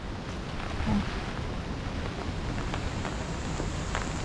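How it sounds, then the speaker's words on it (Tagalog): Heavy rain falls on a farm field in a steady, diffuse hiss with some wind buffeting, fairly faint and unbroken, with a brief louder gust near the start. "naulan, malakas po ang ulan"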